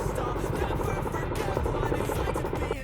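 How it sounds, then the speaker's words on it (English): Steady low rumble and rotor chop of a Boeing CH-47F Chinook tandem-rotor heavy-lift helicopter, continuous and fairly loud throughout, with a faint voice underneath. "It is a fundamental transformation of what a tandem-rotor heavy-lift helicopter can do in modern warfare."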